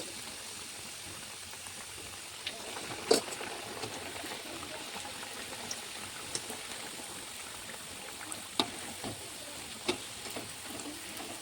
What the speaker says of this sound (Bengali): এরপর আমি এগুলো ফ্রাই করে নেব তেলে।